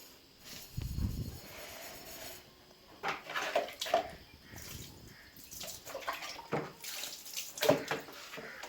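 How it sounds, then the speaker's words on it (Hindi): Tap water runs in short, irregular bursts as a spoon is washed at a village sink, with light splashes and a faint clink of metal, close by and fairly quiet. "चम्मच धोने आई है।"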